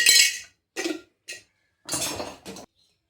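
A metal spoon clinks against a cooking pot while ghee is spooned in for traditional tamarind rice (pulihora), five short, bright clinks with pauses between them, close and clear, no voices.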